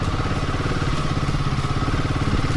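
An H450 motorcycle engine runs steadily and loudly throughout while off-road hill climbing, a dense, close throbbing with no voices over it.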